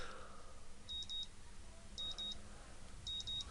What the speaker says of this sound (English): I don't know why I keep the early alarm on anymore, but it wakes me up the next morning just the same